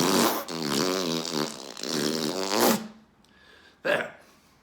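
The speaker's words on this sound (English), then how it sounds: "I fart in your general direction" A long, buzzing fart sound lasts about three seconds, close and loud with a wavering rasp, followed by two brief, softer puffs.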